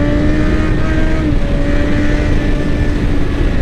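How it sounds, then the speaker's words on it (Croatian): A 2007 Honda CBR 600 RR motorcycle engine running at steady revs, a loud, close, continuous high-pitched drone with wind rush and no speech. "A lipo se i čuje motor"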